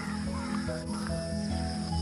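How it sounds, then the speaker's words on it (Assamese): Birds call around a village pond beside a road, several harsh crow-like caws and brief chirps rising over a steady hiss of background noise. "কিমান ধুনীয়াকৈ চৰাই মাতি আছে শুনা পাইছে"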